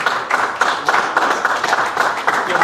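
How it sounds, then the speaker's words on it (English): An awards-ceremony audience at the Men of Essex event claps in uneven, pulsing bursts, a dense roomful of hands filling the space without any voices on top. "Give him a hand."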